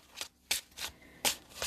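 Tarot cards are shuffled close by in short riffling bursts, four or five quick papery rustles spaced irregularly, fairly quiet with no speech.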